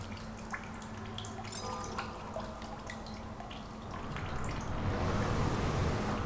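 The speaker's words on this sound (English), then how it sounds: "Fill up this bottle of water." Water trickles and drips steadily into a bottle being filled in The Solus Project video game, then swells into a louder rushing pour toward the end, with faint clinks and ambient hum underneath.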